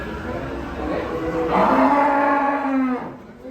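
Cattle unloading from a truck let out a long, loud moo that rises and holds for over a second before fading, over a steady background murmur.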